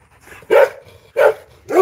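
Several dogs bark in a kennel, three loud, close barks arriving about every half second with no talking.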